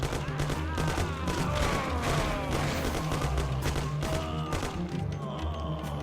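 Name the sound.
Tommy gun firing in Mafia video game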